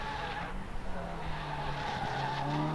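A road car laps a race circuit toward the hairpin, engine droning with a pitch that rises and falls and tires squealing, heard under a commentator's continuous talk.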